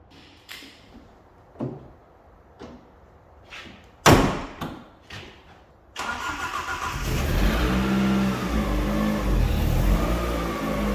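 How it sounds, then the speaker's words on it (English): An Alfa Romeo 145 Cloverleaf: several loose thuds and clicks, then the engine fires up partway through and settles into a steady, close, loud idle as it warms up. "I'm just going to run this all up to temperature, make sure everything's working"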